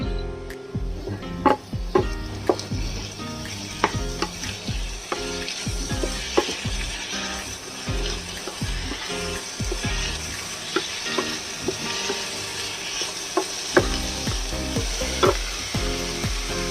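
Fresh tomato and onion fry in a pan with a steady, loud sizzle, broken by repeated scraping and clacking as a utensil stirs the mixture.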